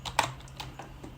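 Code is typed on a computer keyboard, a quick close burst of several light key clicks in an uneven rhythm with no one speaking.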